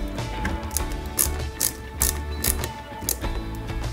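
A screw is tightened on an Alpine A110 1600S 1/8 scale model, giving a run of small mechanical ratcheting clicks in quick, uneven bursts, close and fairly quiet, with no voices.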